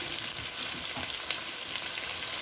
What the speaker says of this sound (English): I will let it fry, my curry leaf, thyme, and my onion.